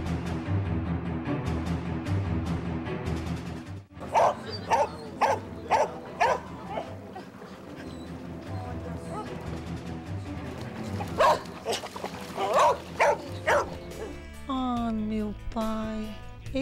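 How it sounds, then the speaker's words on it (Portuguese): Several abandoned dogs on an island barking repeatedly, with sharp overlapping barks in bursts and some whimpering, set against talk and background music. "Sim, são mais de 10 cachorros que o povo vai e deixa abandonado ali na ilha."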